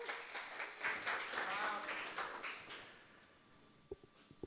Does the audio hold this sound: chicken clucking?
no